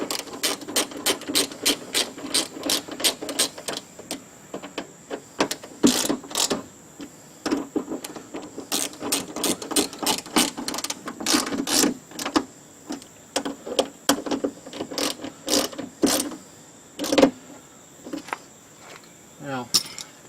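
A Chevrolet Suburban door latch actuator is reversed and tightened by hand, giving repeated sharp metallic clicks and ratcheting rasps in quick bursts with short pauses, close up and fairly loud throughout.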